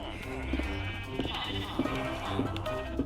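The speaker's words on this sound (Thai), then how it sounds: "เสียงแกะนี่น่าลำคาญเหมือนกันนะยุ่ยเยี้ยเลย" Sheep in the video game Minecraft bleat several times in short repeated calls over a dense, steady background of game sounds, with a voice talking faintly.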